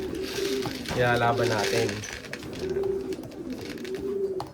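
Racing pigeons coo in soft, throaty rolling calls close by, with a person talking over and between them.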